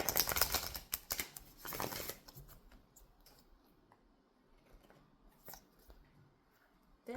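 Oracle cards from an angel ancestor deck are shuffled and drawn, a dense flurry of crisp card flicks up front thinning to scattered soft slides and taps, close and fairly quiet.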